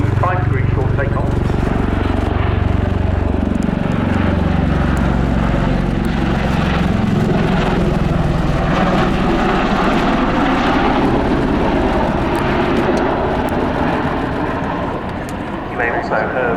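A US Air Force Boeing CV-22B Osprey tiltrotor makes a 75-degree short takeoff at an air show, its loud rotor and engine roar sweeping in pitch under a commentator's voice.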